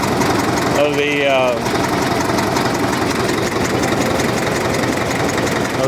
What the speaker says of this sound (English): The pony motor works flawlessly.